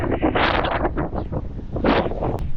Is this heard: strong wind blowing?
yes